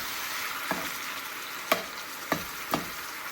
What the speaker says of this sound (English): we're going to give this a nice stir and cook